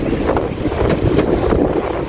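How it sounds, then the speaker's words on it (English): Strong wind buffets the microphone in continuous gusty roars along a trail in the Everglades, loud and close, with no voices. "Today is kind of and very windy up here."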